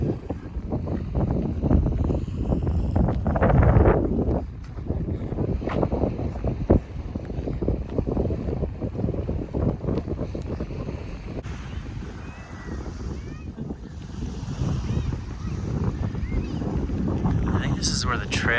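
Wind blows steadily on the beach at Morro Bay near Morro Rock, a continuous rushing roar buffeting the microphone, with a person talking over it for much of the time.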